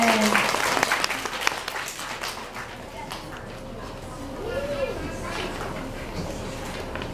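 Audience applause after a ukulele solo at a children's school concert, a broad crackling clatter that starts fairly loud and thins to a steadier patter, with a voice speaking over it.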